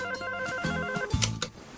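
Telephone ringing in a radio drama mystery, a bright electronic ring in short repeated bursts, moderately loud, with faint voices and other sounds around it.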